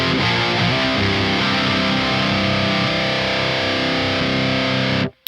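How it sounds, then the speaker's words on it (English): An electric guitar plays through a full-size Soldano SLO head pushed by a Tube Screamer overdrive pedal, giving a thick, saturated, sustained distorted chord that rings loud and steady before cutting off abruptly at the end. "I'm going to throw on the tube screamer. So let's start with the full-sized head."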